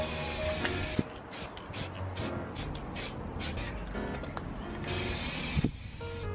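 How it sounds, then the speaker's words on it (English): Close spray-can hissing in long bursts with short pauses between as a Golf GTI car part is painted black, loud and steady, broken by a couple of sharp clicks. "We're painting this black, but I don't want to spray the emblem black."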